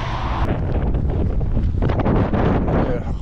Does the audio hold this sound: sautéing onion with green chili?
no